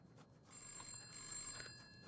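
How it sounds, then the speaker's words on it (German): A telephone ringing in a bus survival demo video game, a thin electronic ring repeating in two short bursts over a quiet game ambience. "Geh mal ans Telefon."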